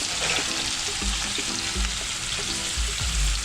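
Onions fry in a pan with a steady, fairly loud sizzle and hiss throughout, with faint utensil clinks and low thumps scattered through it. No one speaks.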